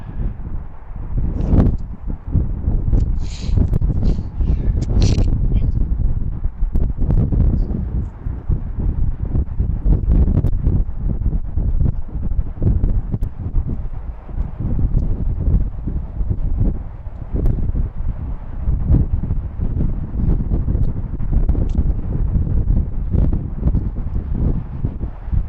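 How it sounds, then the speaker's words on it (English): Strong wind at BWI airport buffeting the microphone with constant loud rumbling gusts and rustle, continuous throughout, with a few faint higher tones in the background early on. "that wind's pretty strong right now"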